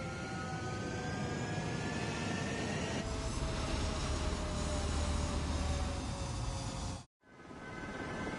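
A jet aircraft taking off in the video game Ace Combat 7, a loud sustained engine roar and whine that builds in pitch, then cuts abruptly to near-silence before resuming.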